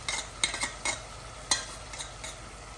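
Tomatoes fry in a pan while a spoon scrapes and knocks against it in a handful of sharp, scattered strokes above a faint sizzle, close up and quiet.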